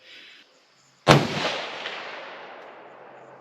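A single sharp rifle shot from a Savage 110 Desert Tactical in 6.5 Creedmoor firing Hornady 130 grain ELD Match handloads, loud and close, with a long rolling echo fading over several seconds after faint background noise.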